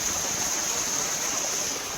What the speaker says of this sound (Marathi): हे बघा धबधबा किती भारी आहे ना, कसं धबधबा बघा